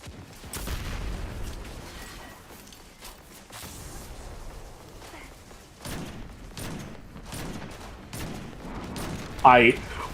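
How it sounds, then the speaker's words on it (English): Grenade blast in a shooter video game, a sharp burst near the end against busy background gunfire and game noise, with players talking over it. "I threw my grenade directly on that big old machine thing"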